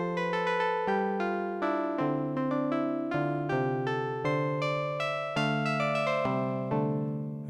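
A synth patch on a Novation Peak run through a Hologram Microcosm effects pedal plays a plucked, lute-like melodic line of bright harmonic notes with shimmering tails, sounding alone at steady moderate loudness.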